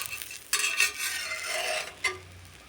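Egg frying with grated coconut in a pan on a gas stove, with a soft steady sizzle under sharp scraping strokes of a utensil stirring against the pan, two louder scrapes standing out.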